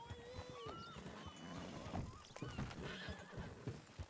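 A horse whinnies in a roleplay video game, followed by hoofbeats and game-like effects, heard alone without talk.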